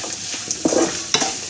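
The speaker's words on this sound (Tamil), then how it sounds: "அப்புறம் வெங்காயத்தையும் போட்டு நல்லா வந்து கலக்கி விடணும்" Onions are stirred in a pan while cooking garlic pepper rice: close scraping strokes of a spoon against the pan come in short bursts, with a light sizzle underneath.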